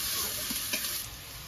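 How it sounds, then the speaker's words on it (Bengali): Onions sizzle in a hot pan as they are stirred and fried until reddish, a brief, moderate crackle with a couple of soft scraping stirs. "এবার আমি এগুলো ভালো করে ভেজে নিব,"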